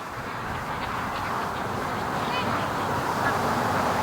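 Free-range ducks quacking as they rush from the creek to the lake in the morning, a busy mass of nasal calls mixed with water and movement noise close by, with a voice speaking over it.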